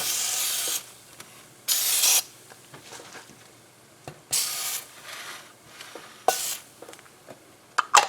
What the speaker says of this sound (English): you just spray it on and let it sit there and it eats away at the paint